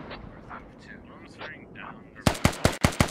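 Five sharp gunshots in quick succession ring out loud and close in the Squad military shooter game, following a stretch of quieter background game ambience with soft voices.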